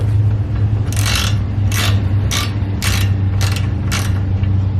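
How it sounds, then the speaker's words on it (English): A 17 mm socket ratchet loosens a shock bolt on a 2006-2013 Lexus IS350, giving six short bursts of close, fast clicking over a steady low hum, with no talk. "you kind of use a 17 mil socket to loose this up"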